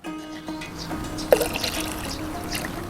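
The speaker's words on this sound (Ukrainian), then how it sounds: "Далі виливаю ретельно перемішаний препарат ДокПро у відро." Mixed DocPro vineyard spray preparation poured into a bucket, a short close liquid splash and trickle that settles into a soft steady pour.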